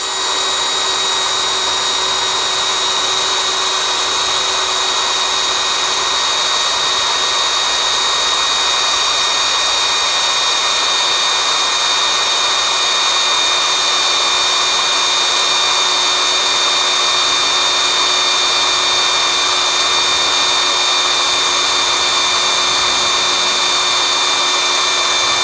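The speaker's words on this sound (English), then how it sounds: "This is the drill for a M8 tap, and we're going to drill us a hole here." Drill bit sized for an M8 tap boring a hole, a steady, loud high-pitched whine that holds evenly for the whole stretch with no talking over it.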